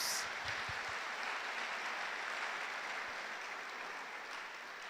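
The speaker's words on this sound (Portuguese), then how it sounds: "Vamos aplaudir ao Senhor pelo dia do descanso." Church congregation applauding during a sermon, a dense steady wash of clapping that holds throughout and eases slightly toward the end.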